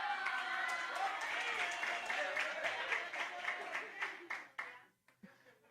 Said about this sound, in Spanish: un aplauso a Martín